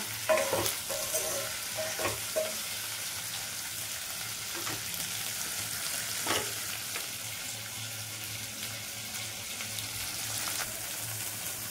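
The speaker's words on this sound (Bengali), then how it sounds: "বলগুলোকে এরকম হালকা আবার ফ্রাই করে নিতে হবে।" Semolina balls frying lightly in a little oil, giving a soft, steady sizzle with occasional stirring scrapes and clinks, close up and without talk.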